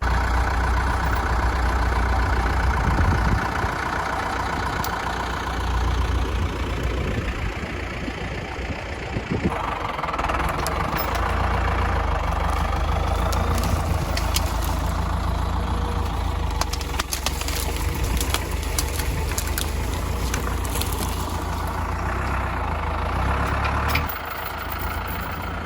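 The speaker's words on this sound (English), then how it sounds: "using the tractor to pull some logs that needed moved" Tractor engine running steadily while pulling logs, a loud continuous diesel drone that rises in pitch partway through and drops near the end.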